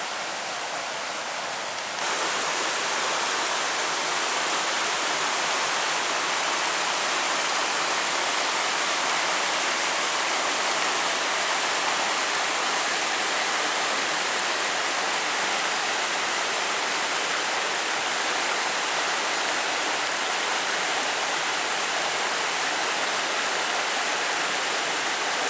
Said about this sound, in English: I guess this is Chacoyote Creek